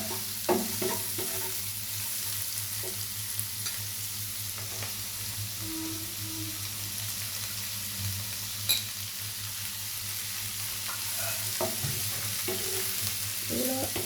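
Cabbage and mixed vegetables stir-fried for chicken fried rice give a steady, close sizzle, with occasional scrapes and clinks of the spatula against the pan.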